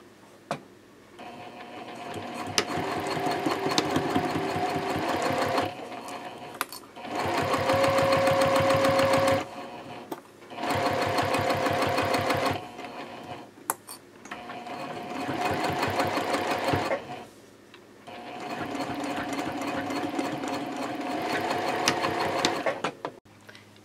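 Sewing machine stitching panels of a baby sling: about five bursts of rapid mechanical whirring, each several seconds long, separated by short silent pauses.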